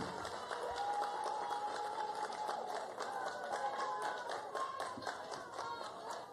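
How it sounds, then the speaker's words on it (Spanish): Applause from an audience at a ceremony for the start of work on Estadio Marino Klinger in Buenaventura, a dense, steady crowd clapping that carries on throughout, fairly faint and distant. "Fuerte aplauso para estas importantes noticias para nuestro distrito,"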